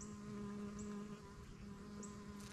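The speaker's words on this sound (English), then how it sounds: "The bumblebees are just everywhere." Bumblebees buzzing around fall-blooming flowers in a Florida permaculture garden, a steady low drone close by with a faint background hum.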